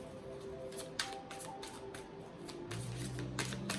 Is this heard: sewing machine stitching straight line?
no